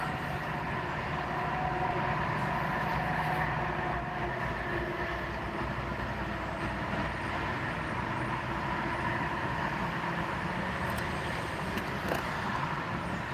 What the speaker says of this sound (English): here comes a right transportation truck.